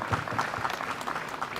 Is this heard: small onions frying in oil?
no